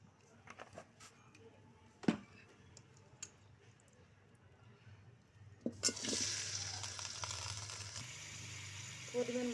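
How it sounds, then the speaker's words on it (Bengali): Potatoes dropped into hot oil in a pan, a sudden loud sizzle that starts partway through and stays steady, preceded by scattered clicks and clatter of preparation. "এবার আমি আলু ভাজে নিব। প্রথমে তেল দিয়ে দেব।"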